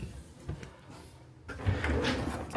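A drawer in a hotel room slides open with a soft, close rumble and a scrape, followed by louder rustling and handling sounds.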